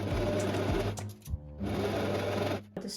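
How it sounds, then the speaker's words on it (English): A sewing machine stitches along the open edge of a linen summer skirt strap, running in a steady close whir, briefly stopping and restarting, then halting at the end. "We're now gonna sew along the open edge here."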